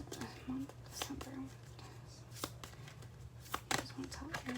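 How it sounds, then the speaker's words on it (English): Tarot cards are shuffled unevenly in the hands, a series of crisp riffling and flicking bursts with quiet gaps between them, close up, under soft spoken voices. "Sorry, having a hard time shuffling."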